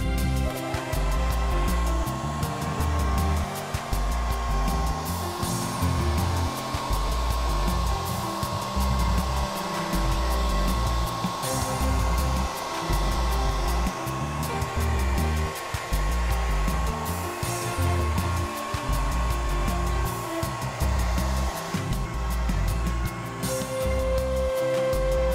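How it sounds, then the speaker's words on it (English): A hair dryer blows steadily and close for the full length, a constant loud whooshing hum drying a watercolour painting, with no talking over it. "So bear with me while I speed dry this with my hairdryer"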